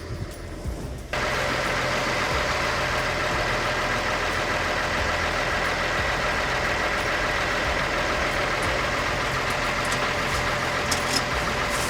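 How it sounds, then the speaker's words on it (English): Massey Ferguson MF165 4WD tractor set up as a skidder for winter logging, its diesel engine idling steadily and loud from start to finish after a brief quieter opening moment, with no talk over it. "I'm gonna have to push it a little bit with the tractor"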